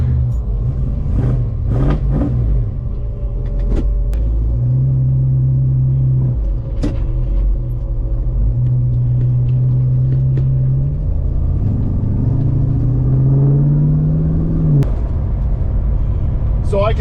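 A 1972 Ford Maverick on a race track, its engine rumbling loud and close with repeated rising revs as it accelerates through gears, a steady droning roar throughout.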